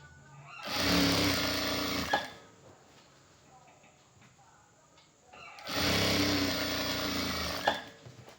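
A sewing machine stitches the front placket of a three-button shirt in two steady, close bursts of a couple of seconds each. A quiet pause separates them, and someone speaks softly underneath.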